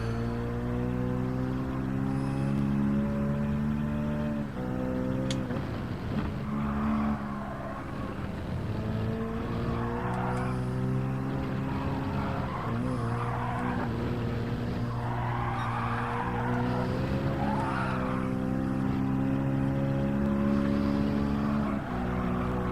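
A race car in Gran Turismo 7 during a time trial, its engine whining loudly and steadily while rising and falling through gear changes, with tire squeals and skidding in between.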